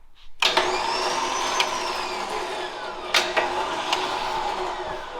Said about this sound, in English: we're gonna make sure that the winch works.